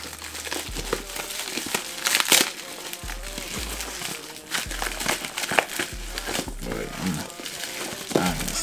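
Packing tape crinkles and crackles close up in irregular bursts as a package is unwrapped, with someone talking at times over the rustling.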